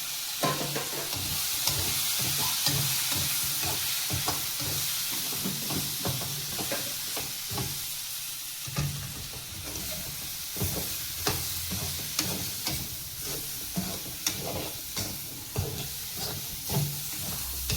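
Grated coconut being sautéed in a pan for mushroom gravy, a steady frying sizzle with repeated stirring scrapes and clicks throughout, close and fairly quiet, with no talking.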